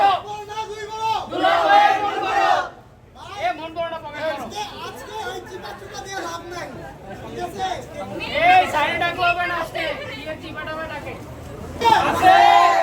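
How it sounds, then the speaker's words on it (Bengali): Wedding guests at the gate chant slogans loudly together in bursts of shouting, with excited chatter and babble between the louder chants, all close and boisterous. "জোরে জোরে ওরা স্লোগান দিচ্ছিল"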